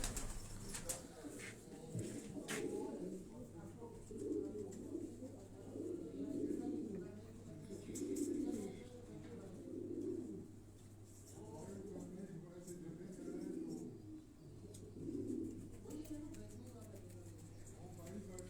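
Asil high-flying pigeon cooing in repeated low rhythmic phrases, close and moderately loud, over a continuous low hum and background room noise.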